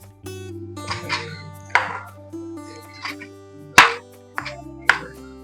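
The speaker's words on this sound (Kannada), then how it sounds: "ಇದೆಲ್ಲ ಗ್ರೈಂಡ್ ಮಾಡೋಕ್ಕೆ ಸ್ವಲ್ಪ ದೊಡ್ಡದಾಗಿ ಕಟ್ ಮಾಡ್ಕೊತೀನಿ ಅಷ್ಟೇ" A knife chops tomatoes into large chunks on a board, about seven distinct crisp strokes at an unhurried, uneven pace, close and clear against quiet background music.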